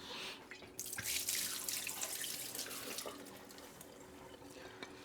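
Crown Royal liquor pours out in a steady splashing, trickling stream that runs continuously for several seconds with no talking.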